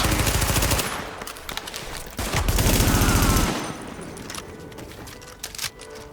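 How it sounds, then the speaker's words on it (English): Close, loud SMG bursts in The Division, rapid automatic fire in two long strings with a short pause between, then sparser scattered shots and impacts trailing off. "Just gonna use the SMG."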